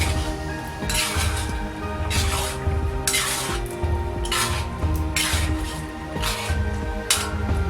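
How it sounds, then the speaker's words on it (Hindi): Metal spoon scraping and clinking against a karahi pan while chutney chicken is stirred, repeated rhythmic strokes with a faint sizzle underneath. "अब इसके अंदर हम चटनी ऐड करते हैं, फिर इसको अच्छी तरह मिक्स करते हैं"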